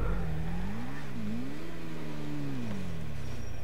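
A motorcycle engine revving in a racing video game, one continuous engine tone rising and falling in pitch as the bike accelerates, steady and prominent with a constant background hum and no talking.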